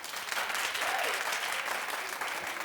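A talk show studio audience claps together in a steady, full round of applause that holds at even strength from start to finish.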